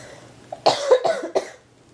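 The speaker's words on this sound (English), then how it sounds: "all this talking is getting me to cough." A short burst of three or four close, raspy coughs in quick succession, then quiet.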